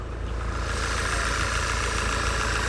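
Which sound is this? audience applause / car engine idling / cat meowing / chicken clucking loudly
car engine idling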